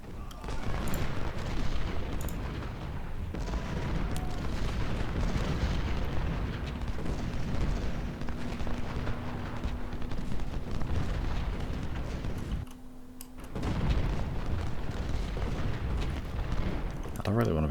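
Cannon and artillery fire from a Union army battle at Chickamauga in Ultimate General Civil War, a dense, continuous rumble of booms and bursts that drops away briefly near the end, with a voice talking over it.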